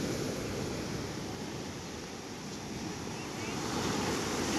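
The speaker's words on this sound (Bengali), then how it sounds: "প্রত্যেক 2 মিনিটে অন্তর এক একটা করে বিশাল বড় বড় বড় ঢেউ আসছে।" Rough surf pounding Old Digha beach at a new-moon morning high tide, with big waves rolling in; a low, continuous roar of breaking water and wind, fairly faint and steady.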